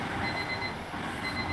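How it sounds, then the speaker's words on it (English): An alarm goes off indoors, sounding as a steady, continuous electronic tone with thin high-pitched beeping above a low background hum, with no one speaking. "Turn off your fucking alarm!"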